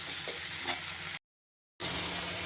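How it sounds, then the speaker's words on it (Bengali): Vegetables sizzle steadily in a wok with turmeric and salt, a continuous close frying hiss broken once by a short silent gap, no voices. "এখন আমি একটুখানি এইগুলোকে চচ্চড়িগুলোকে ভালো করে ভেজে দেব"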